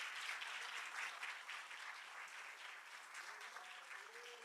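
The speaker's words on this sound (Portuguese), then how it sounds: "Você pode aplaudir o Senhor Jesus?" A church congregation applauds in worship, with sustained, dense clapping at an even level and faint voices mixed in toward the end.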